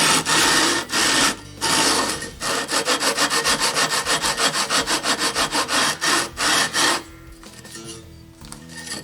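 Rhythmic back-and-forth scraping of a 120 grit sandpaper strip across the body of a 1991 PRS Custom 24 guitar, loud and close, a steady run of rasping strokes after a few longer passes, easing off near the end.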